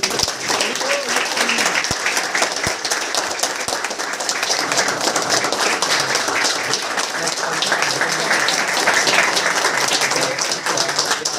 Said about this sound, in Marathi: फर्स्ट प्राइज साठी जोरदार टाळ्या.